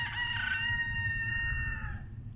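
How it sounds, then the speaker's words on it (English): A rooster crows once, clear and fairly close, its drawn-out call lasting about two seconds over a low rumbling background. "That's the cockerel again."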